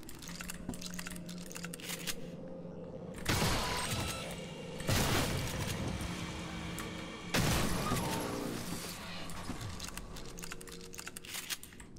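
Gunfire in the video game Prey: three separate loud, noisy weapon blasts spaced a couple of seconds apart over a busy game background, with no talk.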